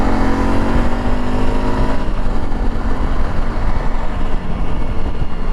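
A Honda CRF300L Rally motorcycle ridden off-road gives a loud, steady engine roar with a rising whine in the first two seconds, then settles into a rough, continuous drone close by.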